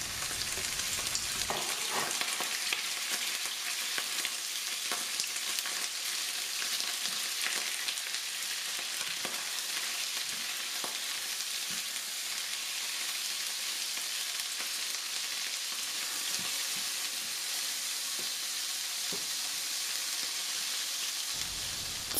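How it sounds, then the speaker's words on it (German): Chicken dropped into very hot oil in a wok bursts into a loud, dense sizzle that holds steady and close for over twenty seconds, sprinkled with small pops and spatters. "Öl im Wok sehr stark erhitzen. Hühnchen dazu geben."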